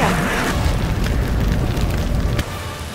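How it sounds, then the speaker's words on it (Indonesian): A dense, roaring blast rumbles continuously with crackling debris, loud and close, then drops slightly in intensity near the end. "Dia membakar kain miliknya dan meledakkan bom itu."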